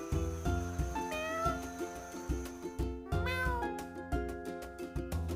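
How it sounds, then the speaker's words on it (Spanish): A house cat meows two or three times up close, with drawn-out, bending calls, over a steady, rhythmic music backing. "Ya aprendimos cómo hace el gato."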